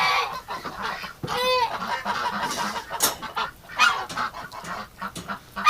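Geese honk repeatedly at close range among other waterfowl, with a short rising call cutting through a busy, chattering flock background.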